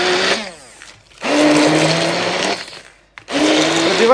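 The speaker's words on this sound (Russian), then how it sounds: "Пробиваем полностью до однородной массы блендером." A blender purees minced pumpkin and lemons in three loud whirring bursts, each motor run rising in pitch as it spins up, separated by brief pauses.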